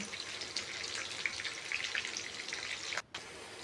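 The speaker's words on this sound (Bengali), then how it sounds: "ক্যাপসিকাম পেঁয়াজ একসাথে ভালো করে ভেজে নেব" Steady close sizzle of vegetables frying in a pan, a dense crackling hiss with small pops, briefly cut off near the end.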